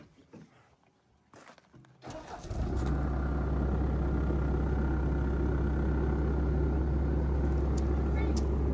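A farm machine's engine, throttle set all the way down, cranks over and catches, then settles into a loud, steady, rumbling idle that runs without a break. Voices are heard faintly before it starts.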